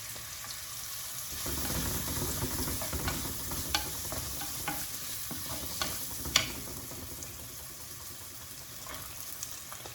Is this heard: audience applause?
no